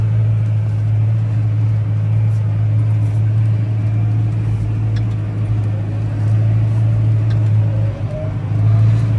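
A Massey Ferguson 6S.155 tractor engine drones steadily with a deep low hum throughout, close and loud, with faint rattles and a brief dip near the end.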